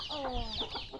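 Chickens clucking nearby while being fed alongside turkeys, a short burst of several overlapping clucks and calls.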